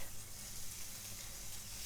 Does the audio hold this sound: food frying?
yes